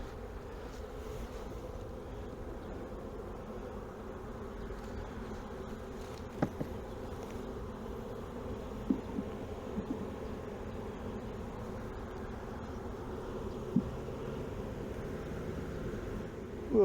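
Honey bees buzz steadily while crowding into the front entrance of a Langstroth hive during a colony transfer. The drone is continuous and close, with a few sharper knocks and clicks.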